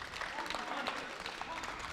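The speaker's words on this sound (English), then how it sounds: "round of applause as Joe is going to come off here" Spectators in a high school basketball tournament gym applaud as an injured player leaves the court, steady clapping from the crowd with a voice talking over it.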